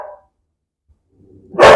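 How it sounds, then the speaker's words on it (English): A dog lets out a single short, loud bark close by at the very end, after a faint yip and a stretch of near silence. "sorry for the barking"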